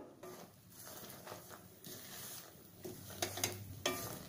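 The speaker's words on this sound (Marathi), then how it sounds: "आता आपण याच्यात हे मुरमुरे घालू।" Puffed rice is stirred into roasted jaggery in a pan, a soft close rustling and scraping with a light sizzle and a few louder clinks near the end.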